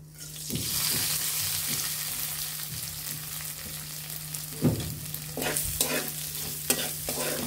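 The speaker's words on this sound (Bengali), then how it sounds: "আমাদের জিরাগুলো ভাজা হয়ে গিয়েছে, এখন আমরা পোলার চালগুলো দিয়ে দেব।" Polao rice being stirred into sizzling cumin, with a steady fry underneath and several sharp scraping strokes of a spoon toward the end.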